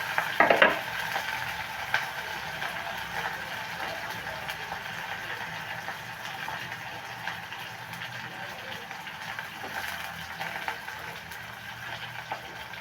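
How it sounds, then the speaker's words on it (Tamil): Garlic and green chillies sautéing in a pan for a lunch of mutton liver pepper fry, a steady soft sizzle with light stirring throughout, a slightly louder burst at the start, no voices. "இப்போ வந்து பூண்டு சேர்க்குறேன் பச்சை மிளகாய் நல்லா வதங்கி வச்சுக்கிறேன்"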